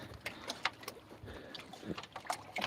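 Fish splash in open ocean water beside a houseboat, making scattered quiet slaps and small splashes at irregular moments over low, calm water ambience.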